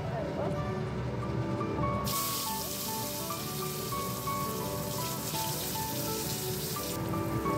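Black cumin seeds hit hot rice bran oil left from frying pieces of pona fish, giving a steady, close, bright sizzling hiss that grows louder partway through and carries on throughout.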